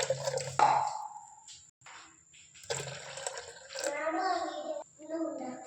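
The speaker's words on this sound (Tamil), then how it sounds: "இது ஜாரில் இருக்கிறது ஒரு பாத்திரத்தில் மாற்றிக்கலாம்." Tomato juice and water pour from a mixer jar into a pot in a home kitchen, a close liquid splashing and trickling in uneven bursts, with a voice and other talk heard in the background.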